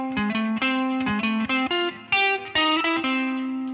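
A clean-toned electric guitar with light effects plays a varied, jazzy single-note lick, a quick run of distinct plucked notes heard alone and close.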